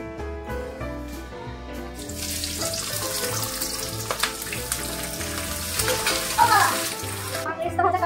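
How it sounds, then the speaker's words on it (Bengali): Chopped onions fry in hot oil for chicken biryani, a steady close sizzle that grows busier after the first couple of seconds, with music-like tones running underneath. "তেলটা গরম হয়ে গেছে, ওই পেঁয়াজটা দিয়ে দিই, দিয়ে এটাকে ভাজা ভাজা করে নিই"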